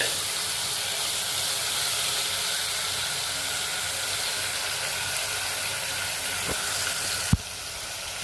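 Vegetables and potatoes for a mixed rice dish being stirred in a cooking pot, a steady hissing, steamy bed of sound throughout with a couple of sharp clicks of the spoon near the end.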